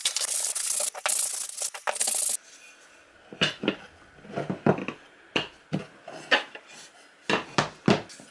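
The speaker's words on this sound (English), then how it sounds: "I'm also going to do 220 grit on the inside of both the box and the bottom." Sandpaper of 220 grit rubs the inside of a small wooden box in short, close strokes with brief pauses between them, following an opening stretch of denser, rougher scraping.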